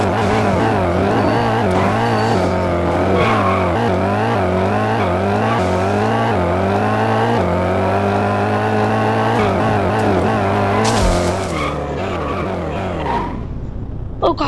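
Car engine in the Extreme Car Driving video game, revving up and down through repeated accelerations and gear shifts with tire squeal, loud and continuous before cutting off near the end.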